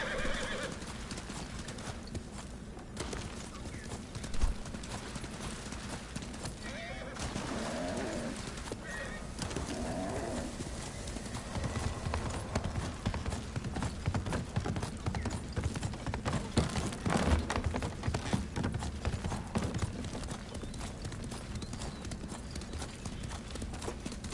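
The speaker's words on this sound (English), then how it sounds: "I don't really ride my horse very many places in this game" Horse hooves clip-clop steadily in the video game Ghost of Tsushima Legends, with a whinny and the soft cooing of doves in the background, and no one talking.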